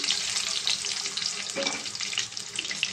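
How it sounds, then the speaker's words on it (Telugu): Eggs fry in hot oil in a pan at a loud, dense, continuous sizzle with bright crackling spatters that hold steady throughout, without any talking. "ఎగ్స్ కొంచెం గోల్డ్ కలర్లో వచ్చే వరకు మనం ఎగ్స్ని ఫ్రై చేసుకుందాం"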